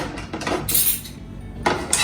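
A metal pan being picked up and set down on a stovetop before roasting kasuri methi, making a couple of loud, close clanks with a short rattle.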